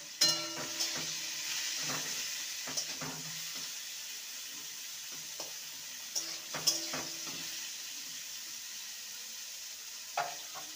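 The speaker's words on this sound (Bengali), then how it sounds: "উচ্ছেটাকে ভেজে নেব" Bitter gourd coated with salt and turmeric fries in hot oil. A steady, soft sizzle continues throughout, dotted with occasional clinks and scrapes from stirring, close by.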